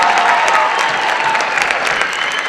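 An audience applauds a high school jazz band at a school band concert, a loud dense wash of clapping that holds steady and fills the whole stretch with no voices.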